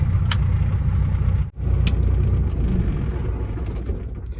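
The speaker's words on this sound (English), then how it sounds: "Let's shut the truck off." Truck engine rumbling steadily up close with a brief dip partway through, then continuing low and loud; a few light metallic clinks sit above the drone.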